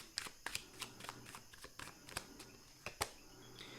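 Tarot cards being shuffled by hand, a series of quiet crisp riffles and snaps in an uneven rhythm, close and alone without talk.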